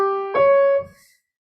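A piano tritone, an interval halving the octave, sounds as one sustained dyad, then a second tritone is struck and rings briefly before fading to silence; no talking.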